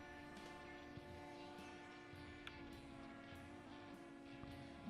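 A Hancock long bell three-chime train whistle in the Railroader game sounds as a steady, faint multi-tone chord held throughout, alongside low rumbling and a few light ticks.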